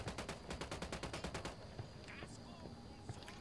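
Rapid automatic gunfire in Ghost Recon Wildlands, a fast burst of about a dozen evenly spaced cracks that stops after a second and a half, leaving faint battle noise and scattered sounds.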